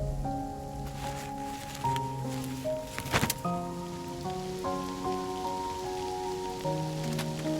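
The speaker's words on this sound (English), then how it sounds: "It's raining again." Soft, steady rainfall in the Love and Deepspace video game, a light patter under gentle piano-like musical tones that carry throughout, with one brief sharp clatter partway through.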